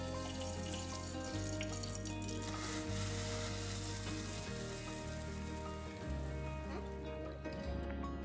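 Hot oil tempered with broken dried red chillies and curry leaves crackles and sizzles loudly as it is poured into a buttermilk curry, with wet splashy hissing that swells and fades in waves. Nobody talks.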